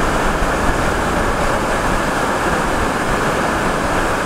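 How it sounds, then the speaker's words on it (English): A water stream falling like a waterfall in South Korea, a loud, steady, broad rushing roar that fills the whole stretch without a break. "This is the water streams. It's like a waterfall, actually."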